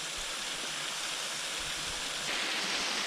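Triple Falls on Vancouver Island pours as a steady, dense broadband rush of falling water, constant and fairly close, growing slightly louder near the end with no voices.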